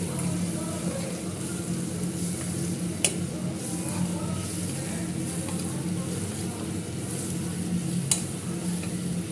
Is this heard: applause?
no